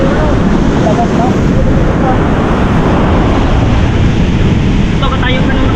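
Sea waves wash steadily onto the shore in a continuous, loud roar of surf, with gusting wind buffeting the microphone throughout.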